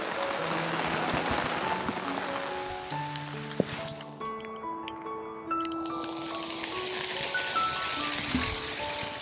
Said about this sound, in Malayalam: ഭയങ്കര മഴ കോട.